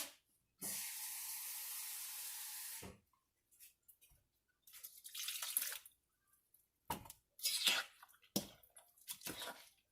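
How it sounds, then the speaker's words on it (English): Water pours steadily into atta flour batter for a sweet madakappam, a close, even hiss lasting about two seconds, followed by intermittent scraping and mixing noises. "I'm going to add 1 more cup of water."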